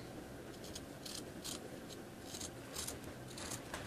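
Scissors cut along a fold line in dashiki print fabric for a dress, a faint, steady run of short crisp snips repeating every half second or so in a quiet room.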